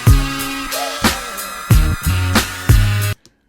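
A hip-hop instrumental plays with heavy kick drums, bass and a looping melody, loud and close, then cuts off abruptly near the end.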